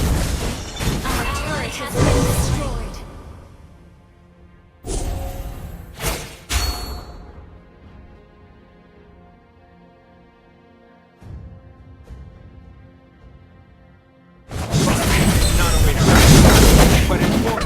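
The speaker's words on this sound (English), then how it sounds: "Our turret has been destroyed." Explosive booms and crashing impacts as a turret is destroyed in a mobile MOBA battle, with loud bursts at the start and end, and game announcer voice lines in the quieter stretch between.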